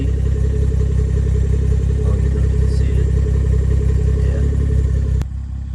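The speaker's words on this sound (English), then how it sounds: "340 with the Valvetronic muffler. Right now the valves are closed," A BMW 340 (F3X) idles through its Valvetronic muffler with the valves closed, giving a steady, close, muted low rumble that cuts off abruptly near the end.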